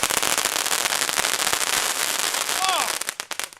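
A small Bulgarian volcano fountain firework crackles densely and loudly up close, with a brief whistling squeal near the end before sputtering out into a few scattered pops.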